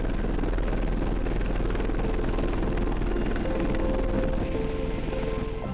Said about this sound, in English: MH-60S, a helicopter used in demanding maritime operations